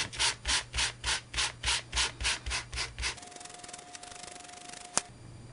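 Sanding block rubbed back and forth over embossed cardstock in about ten steady, even strokes, close and clear, followed by a quieter stretch with a faint hum and one sharp tap near the end.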